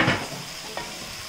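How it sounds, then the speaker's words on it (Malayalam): Chopped tomatoes stirred into onions sautéing over high flame in a pan, a soft sizzle with a couple of light utensil scrapes, close but fairly quiet and brief. "ഈ ടൊമാറ്റോ ഇതിലേക്ക് ഇട്ടിട്ട് ഇളക്കി കൊടുക്കണം."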